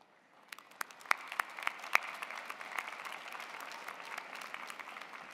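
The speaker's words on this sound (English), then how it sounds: "Everyone, please join me one more time in applauding these outstanding graduates." Graduates at a University of Illinois Chicago College of Business Administration spring commencement receive steady crowd applause, a dense, even patter of many hands clapping that builds quickly and holds without cheering.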